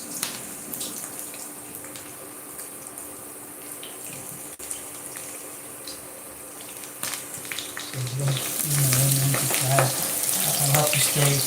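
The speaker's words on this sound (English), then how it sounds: "So we're gonna leave the onion to fry." Onions frying in a pot for vegetable jollof rice, a steady watery hiss and crackle that grows louder and brighter toward the end, with a low clatter and faint background noise.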